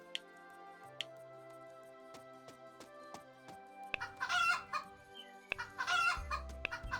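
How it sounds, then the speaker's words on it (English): Chickens on a farm in the game Cropia, several clucks and squawks breaking out in two bursts over quiet background music with soft plucked notes. "Chicken, get out of the way."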